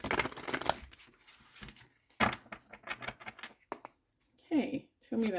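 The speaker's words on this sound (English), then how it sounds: "One more shuffle." Tarot cards are shuffled by hand in quick riffling, pattering bursts, loudest at the start, with a voice speaking between and after the bursts.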